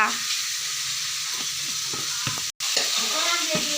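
Onions and tomatoes fry in a pan for a bottle gourd curry, sizzling steadily near the mic while a spoon scrapes and stirs, with a brief dropout partway through.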